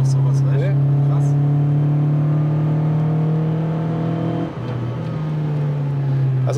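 Renault Clio 2 RS with 180 hp in a car weighing about 1000 kg, its engine droning steadily and loudly at sustained revs, pitch dipping briefly before climbing again, with people talking over it.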